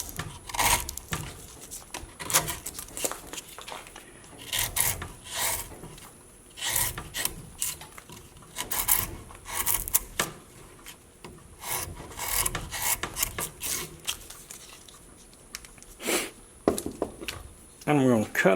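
Knife carving and cutting into cottonwood bark, with repeated rasping, scraping strokes at close range in an uneven rhythm, and someone talking intermittently over the work.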